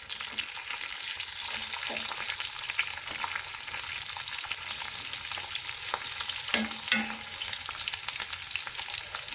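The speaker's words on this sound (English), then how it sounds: "So with this high flame only I will be roasting it. I will be continuously stirring and roasting." Paneer cubes roasting on a high flame with continuous stirring give a steady, close sizzle. Occasional scrapes and clinks from the stirring utensil sound throughout, with no talking.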